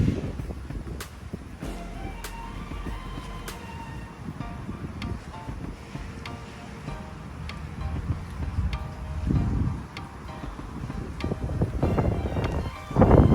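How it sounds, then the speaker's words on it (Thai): Strong wind from an approaching storm in Ubon, Thailand, buffets the microphone with low rumbling gusts throughout, swelling louder near the end, with no speech. "อาจจะมีเสียงลมรบกวนนิดนึงต้องขออภัยลูกค้าไว้ณที่นี้ด้วย"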